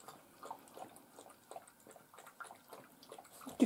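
A young dog laps water from a small cup indoors, a quiet, steady series of soft wet licks repeating several times per second, close by, with no talking.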